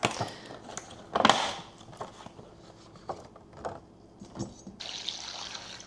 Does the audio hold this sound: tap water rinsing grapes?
yes